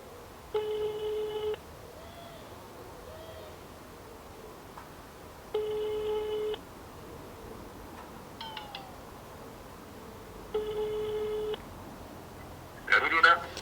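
Telephone ringing tone heard while calling a stepfather, three evenly spaced electronic rings about five seconds apart, clear and steady against a quiet room background.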